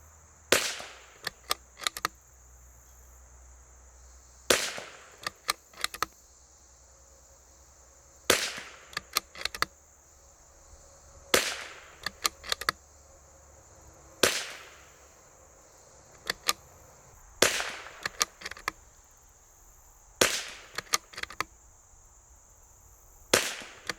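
L3I Stinger .22LR rifle fired outdoors in quick strings of sharp cracking shots, about seven clusters of two to four reports spaced a few seconds apart, with wind noise between them.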